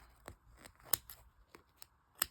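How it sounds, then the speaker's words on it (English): Small snips cutting apart sewn fabric quilt blocks, a series of separate crisp snipping clicks spaced irregularly, close and fairly quiet with no talk. "now I'm going to take some little snips, and I'm just going to cut these apart"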